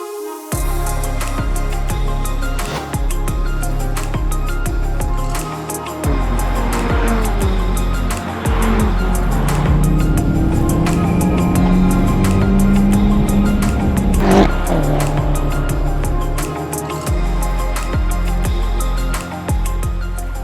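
Race car being driven hard around a track, engine roaring close and loud with rising and falling revs as it shifts, with high squealing tones through the middle as it corners.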